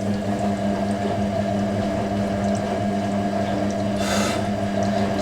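Water sloshes and churns steadily inside a Hoover A3060 Electronic 1100 washing machine during a wash with bedding, over a constant motor hum, with a brief louder splash near the end and no voices.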